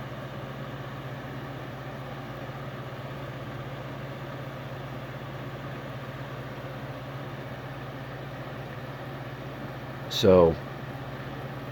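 A vintage 1990s Capehart 40 pint dehumidifier hums steadily with a constant fan and compressor drone, blowing lukewarm air; a brief spoken word cuts in near the end.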